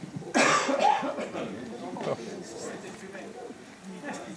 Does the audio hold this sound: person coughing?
yes